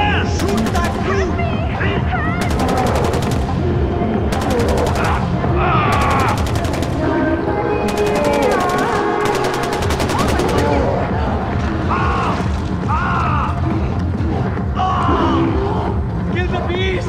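Gunfire in the video game Far Cry 4: repeated bursts of rapid shots crack out in clusters over a busy battle soundscape, with voices shouting during the fight.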